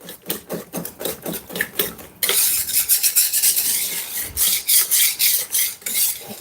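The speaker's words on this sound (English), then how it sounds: "So you add a little, and we're gonna whisk them in." A whisk scrapes rhythmically through béchamel white sauce for pasta in a pan, steady circular strokes with a raspy metallic scraping, loud and close, no talk.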